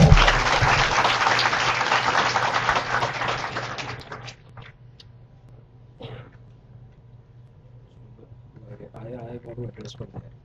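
A forum audience at a business session gives a dense round of applause that fills the first few seconds and then fades, leaving a quiet room with faint scattered sounds.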